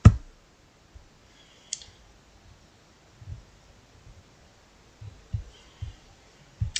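Computer mouse clicks while filling in an online CTET form: about seven separate sharp clicks spaced irregularly across quiet background, close and distinct.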